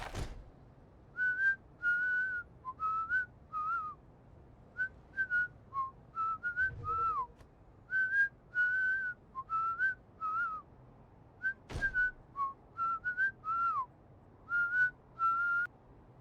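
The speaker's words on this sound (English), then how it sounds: "And if you hold B, he whistles." Game character whistling in Lego Marvel Avengers, a repeated tuneful whistle in short phrases with brief gaps between them, clear and fairly close, a couple of sharp clicks in between, no talking.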